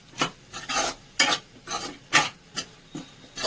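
A spoon scrapes spices around a cooking pan in about seven steady, rhythmic strokes, close and clear, with a faint sizzle underneath.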